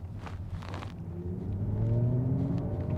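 A Mercedes EQS electric car accelerates with a low rumble and a rising motor whine that swells and holds steady, with muffled interior knocks early on.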